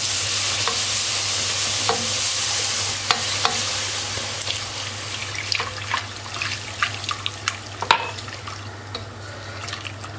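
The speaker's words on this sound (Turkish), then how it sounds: "Şu an tam 2 su bardağı süt ilave ettim ve sosumuzu karıştırmaya devam ediyorum." Roux of flour cooked in a pan while milk is added, with a steady sizzling hiss and scattered sharp clicks and scrapes of a utensil stirring the thickening sauce.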